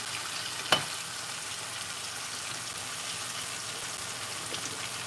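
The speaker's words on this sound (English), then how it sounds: "And we'll sear it on this side for about 3 minutes" Prime rib roast searing in a hot pan sizzles steadily at a close, even hiss, with one sharp pop or tap near the start.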